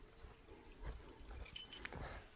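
House keys belonging to a grandmother jangle in a village home in Tosya, Kastamonu, giving a few light metallic rattles and clinks, loudest near the middle, over faint background noise.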